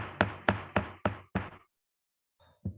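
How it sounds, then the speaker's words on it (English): Five sharp knocks in a steady rhythm ring out close and loud, then a short silence, followed by a faint rustle and one more knock. "Knock, knock."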